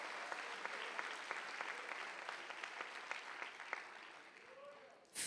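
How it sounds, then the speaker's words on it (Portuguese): Congregation clapping together during a church sermon, a dense steady patter of many hands with a few sharper claps standing out, carrying on for several seconds before cutting off abruptly at the end. "Pode aplaudir."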